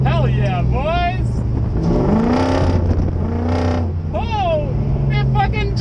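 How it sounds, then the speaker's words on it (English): A V8-powered Mazda drift truck drifting at a drift event, with a loud continuous engine roar and rising revs close by, while excited voices shout over it. "It drifts!"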